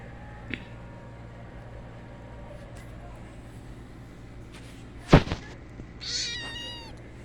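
A small kitten on a rural two-acre property gives a rising, drawn-out meow near the end, after quiet background noise and a sharp knock; a person's voice is faintly present.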